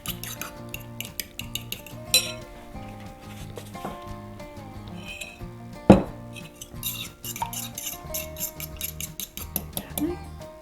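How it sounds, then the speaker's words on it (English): Six medium eggs beaten in a bowl for a sausage quiche: rapid, rhythmic clinks and taps of a utensil against the bowl, fairly close and moderately loud, with a few sharper knocks over a steady tonal background. "Now then I'm going to beat up my eggs. This is 6 medium-sized eggs."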